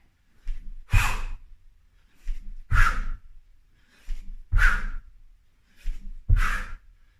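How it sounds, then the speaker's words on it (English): Four forceful exhalations paired with the landings of jump squats during a strength workout, spaced about every two seconds, each a loud breathy whoosh with a soft thud, close and alone. "Starting back in this athletic landing position, and then exhale to land."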